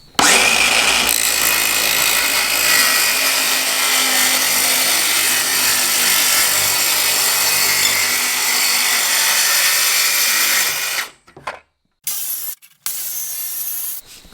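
A power saw cuts through a wooden board with a loud, sustained whine for about eleven seconds, then cuts out, leaving a few short stop-start bursts.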